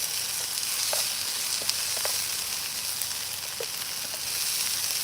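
Onions frying in a pan for a curry, a steady close sizzle with a few faint pops and stirring scrapes, alone with no talk.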